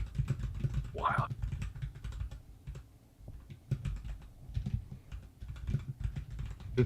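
Typing on a computer keyboard patters in quick bursts of light, close taps over a murmuring background, with a brief voice-like sound early on.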